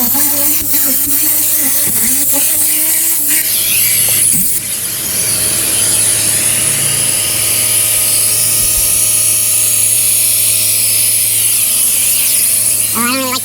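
A loud, steady vacuum roars close up as it pulls sand out of the carpets of a Toyota Sienna van during a detail, with a high whine over it and brief clatter at the start and end.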